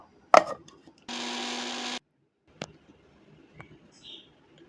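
Dry-roasted peanuts, black mustard seeds and three green chillies are ground into a paste, heard as a single steady whirring burst of under a second, with sharp knocks before it and faint clicks afterward.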